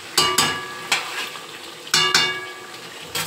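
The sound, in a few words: chicken frying and stirred with salt and spices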